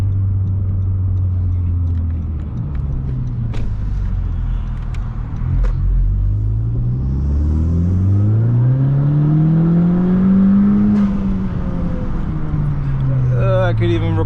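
A car running a Powermetric stage 1 tune accelerates hard down a straightaway, its engine note climbing through the gears with loud close rumbling and shifts.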